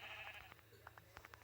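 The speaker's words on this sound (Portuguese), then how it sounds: "Mais uma ovelha." A Minecraft sheep bleats a few times close by, its wavering cries standing clear over a quiet game background with no talk.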